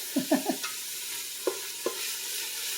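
A spoon scrapes browned fond from the bottom of a pan while stirring onions, giving several short scraping strokes over a steady low sizzle, close and alone.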